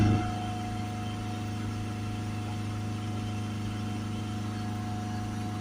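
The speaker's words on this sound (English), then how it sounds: "Let's give it a rev up." A Mercedes C Class 2.1 diesel with a blocked particulate filter runs as a steady, even engine drone with a low hum and no clear rise in revs, close by and without talk.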